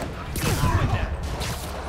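Rockets launch in rapid succession during a video game firefight, whooshing and booming loudly over dense low rumble, with a voice talking over the barrage.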